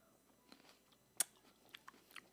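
Crunchy grapes bitten and chewed up close, one sharp crisp crunch followed by several softer chewing crackles in a quiet room.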